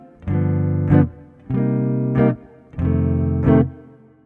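Jazz guitar comps through a 3-6-2-5 chord progression in a rhythm-changes study, with the dominant 7th on the 6 chord. Each sustained chord ends in a brighter accent, three times over, clear and alone with no talking.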